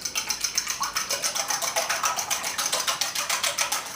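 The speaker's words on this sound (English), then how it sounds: "And we're just going to whisk." A fork whisks eggs briskly in a bowl, a fast, steady run of close scraping clicks in even rhythm for several seconds with no talking.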